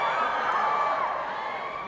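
An audience of children and adults cheering and whooping loudly and continuously, a close, sustained burst of crowd noise.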